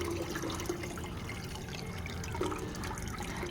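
Water being poured into a buttermilk pesticide mix of sour buttermilk, garlic and asafoetida powder, a steady close splashing and trickling that runs without a break.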